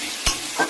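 A spoon stirs fried spices and tomato in a hot pan, two quick scraping strokes over a soft background sizzle, close and brief.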